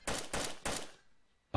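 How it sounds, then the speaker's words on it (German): Suppressed gunfire in the video game DayZ: three sharp, loud cracks about a third of a second apart decay into near silence, then a fourth shot hits at the very end. "Schallgedämpfter Schuss?"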